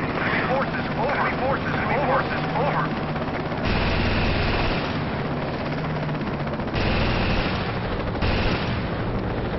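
Helicopter-mounted machine gun fire in a video game, dense bursts of rapid gunfire over a constant rotor drone, switching on and off in long stretches while someone talks.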